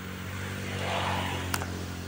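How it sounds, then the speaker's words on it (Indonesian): A warmed-up two-stroke motorcycle engine running on Repsol MXR 2T racing mix oil, revving in a steady, moderate swell close by with a brief click near the end. "Ini motor udah dipanasin, udah digas"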